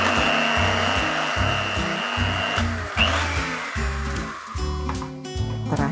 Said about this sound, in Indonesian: Mixer lagi sampai tercampur rata.